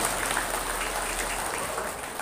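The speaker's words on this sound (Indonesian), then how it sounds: "Tepuk tangan untuk para alumni." Audience at a gathering applauding alumni, a dense, even wash of clapping from many hands that holds steady throughout and eases slightly at the end.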